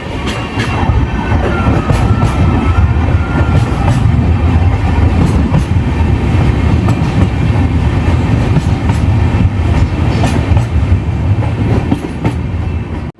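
The Gommateshwara Express passenger train rumbles steadily along the Sakleshpur Ghat line in India, with dense low-frequency roar and faint rhythmic clacking of wheels throughout, fairly loud and continuous.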